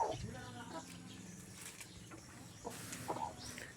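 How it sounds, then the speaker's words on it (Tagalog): Chickens on a farm, just fed, cluck and call over a few seconds at moderate distance, mixed with other faint farmyard noise and background murmur. "Tapos na rin natin napakain yung mga manok."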